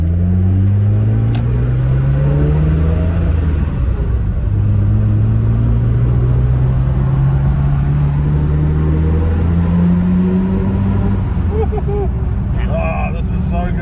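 A classic sports car engine drones steadily while driving, a loud low rumble rising and falling in pitch as it pulls through the gears, with people talking over it inside the cabin.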